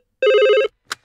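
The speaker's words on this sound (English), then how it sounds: "There are telephones," An office telephone gives a single short electronic ring, loud and close, followed by a brief faint click before silence.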